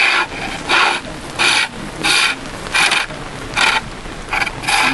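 A small hand gouge carves timber at an outdoor wilderness gathering, making about eight rhythmic rasping strokes, each a loud close scrape separated by brief quieter gaps.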